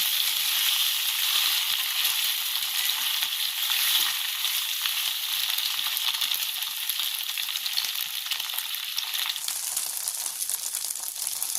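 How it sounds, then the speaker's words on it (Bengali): Egg paneer pieces frying in oil while being stirred, a dense, loud, continuous sizzle close by with faint stirring movement underneath. "দিয়ে দিচ্ছি, নাড়াচাড়া করে ভেজে নেব।"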